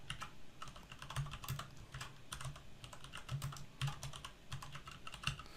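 Keys clatter on a computer keyboard in quick, irregular bursts of close, light clicks, typing in a spreadsheet cell, with a soft low thump from the keystrokes underneath.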